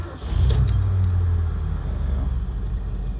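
A Cougar XR7 convertible is started with its keys: a brief jangle of the key ring, then the engine catches and settles into a low, steady idle, close to the microphone.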